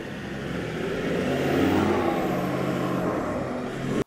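Off-road vehicle driving on sand, a steady engine drone that swells slightly and holds for a few seconds before cutting off abruptly, moderately close, with no talking.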